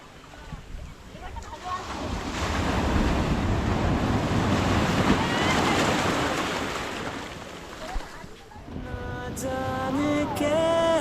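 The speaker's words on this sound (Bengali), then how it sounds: "এই সমুদ্রের আওয়াজ" Sea waves surging onto the beach at Shankarpur, a broad roaring wash that swells, holds and ebbs with wind buffeting the microphone, before music with singing rises at the end.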